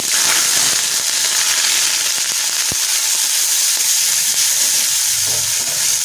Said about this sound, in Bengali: পেঁয়াজ বাটাটা একটু লাল লাল করে ভাজা হবে।